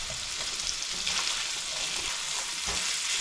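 Garlic and onions fry in a pan with a loud, even sizzle that holds unbroken throughout, close up and with no one speaking.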